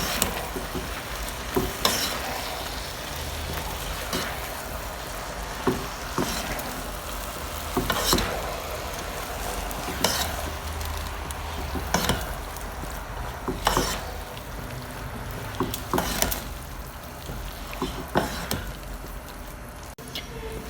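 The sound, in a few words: rice being stirred and mixed gently in syrup in a pan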